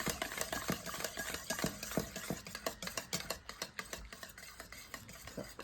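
Brownie batter being mixed in a bowl makes a quiet, rapid series of scraping and tapping strokes in an uneven rhythm, faint and close, with no talking.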